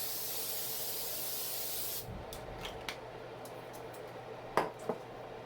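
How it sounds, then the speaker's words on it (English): An olive oil pump spray hisses steadily for about two seconds, followed by a few soft clicks and light handling taps nearby. "I spray it with olive oil spray"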